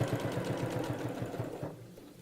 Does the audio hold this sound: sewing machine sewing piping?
yes